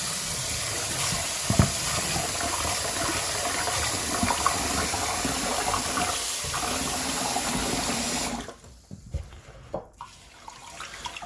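Cold tap water runs steadily into a sink as rice is rinsed and swished by hand, a continuous close splashing rush that cuts off abruptly near the end, leaving a few faint drips and knocks.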